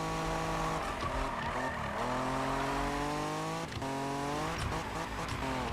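A 1971 Nissan Skyline drifts in the Need for Speed video game, its engine droning continuously while tires squeal in long rising and falling streaks, loud and close throughout.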